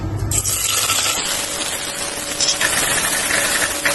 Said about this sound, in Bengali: দিয়ে দিচ্ছি তেল, দিয়ে দিচ্ছি পেঁয়াজ কুচি